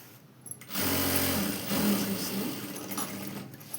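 Sewing machine running a hemming stitch along a blouse hem, a fast continuous mechanical whir close by that starts after a brief quieter moment and holds steadily to the end.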